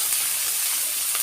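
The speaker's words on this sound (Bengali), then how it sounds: "সুন্দর করে একটু কষবো, পেঁয়াজগুলো একটু ভাজা ভাজা করে নেবো।" Sliced onions and green chillies sizzle and hiss in a hot pan, a close, steady frying sound over a short moment.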